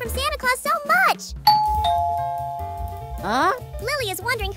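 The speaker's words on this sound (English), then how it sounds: "who rang the doorbell" A doorbell rings with a bright ding-dong chime in a cartoon about a baby monkey, sounding once between stretches of high, childlike cartoon voices talking.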